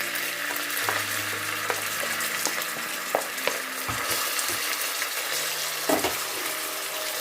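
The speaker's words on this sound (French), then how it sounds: "Donc là, je vais plutôt rajouter mon poireau." Chopped leek hitting a pan of sautéed gizzards, a close sizzle with stirring scrapes and a few clinks, plus brief running-water sounds in the background; nobody speaks.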